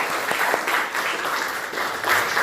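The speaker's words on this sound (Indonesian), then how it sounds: "tepuk tangan untuk kalian semua" A group claps together in a steady, moderately loud burst of applause, with no talking over it.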